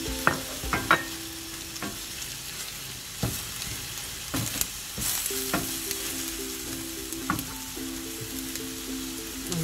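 Mushrooms frying in a pan for a quick snack, with a utensil stirring them in irregular scrapes and taps over a steady close sizzle.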